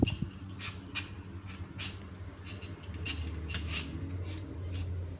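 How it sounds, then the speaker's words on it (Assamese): Homemade paneer rubbed against a metal grater in a home kitchen, giving a steady run of soft scraping strokes with light metallic clinks, close and quiet, no voices. "এতিয়া পনীৰখিনি মই এখন ৰুকনিত ৰুকি ল'ম।"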